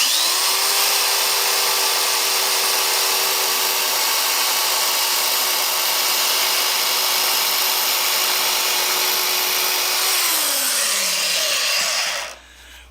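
A Black & Decker Quantum 1/2" x 18" belt sander runs at a steady, loud, close whir with a constant tone for about ten seconds, then winds down and cuts off near the end.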